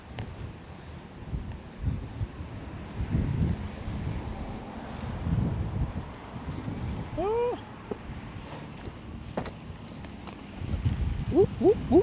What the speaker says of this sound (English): I didn't know it could get this windy